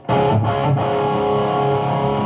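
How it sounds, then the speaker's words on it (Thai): A thick, saturated distorted electric guitar through a cab simulator pedal rings out in one sustained chord after a couple of quick strums, loud and dense with no voices. "นี่เสียงแตกที่ผ่านแคปซิม"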